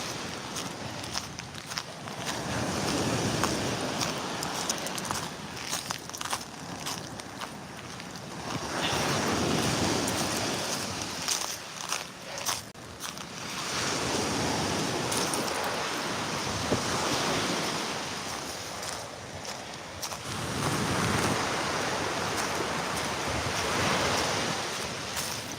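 Ocean surf surging and washing onto a beach strewn with seaweed, with houses nearby whose lower levels were lost, in long rolling waves cresting and receding every few seconds, loud and close under steady wind noise on the microphone.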